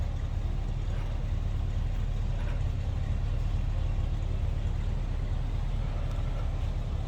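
A 1970 Dodge Challenger 383 V8 convertible idles smoothly, its steady low exhaust rumble heard from behind the car, continuous and even throughout with no talk.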